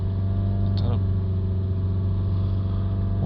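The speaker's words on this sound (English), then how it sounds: "We'll try and hold the revs up around 3000 RPM" A Range Rover Evoque 2.0 engine is held at steady elevated revs around 3000 RPM, a constant droning hum close by with a couple of brief higher blips.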